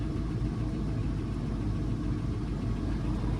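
A car engine idling with a bad misfire at a dealer auction, a steady low rumble that runs on without a break, close and alone.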